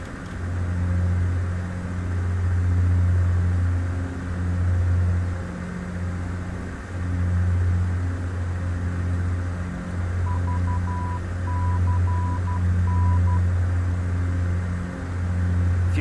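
Intermittent electronic beeping in MS Flight Simulator 2004: a short run of evenly spaced beeps near the end, faint above a loud, steady aircraft engine drone.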